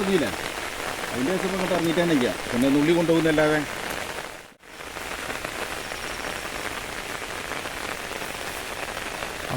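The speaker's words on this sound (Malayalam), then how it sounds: "മഴ" Steady rain pours down on a surface, a dense unbroken hiss; a voice talks over it early on, and the sound briefly cuts out midway.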